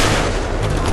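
Loud, close gunfire fills a one-second burst of combat in the shooter Battlefield 3, with dense, continuous blasts and no gaps.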